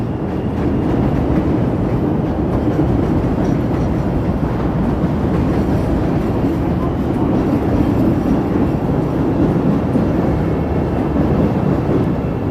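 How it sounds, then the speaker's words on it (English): A Chicago elevated L train rumbles past on the tracks, a loud, steady roar of wheels and rail noise lasting the whole time. "we'll get the L train going by here"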